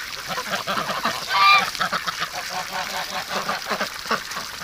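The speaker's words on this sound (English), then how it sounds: "You silly ducks." Ducks in a wintry yard honk and quack in a busy, continuous chorus, close by, with one louder honk standing out midway.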